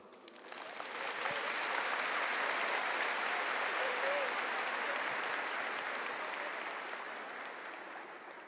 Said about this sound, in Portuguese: Aplaude essa palavra.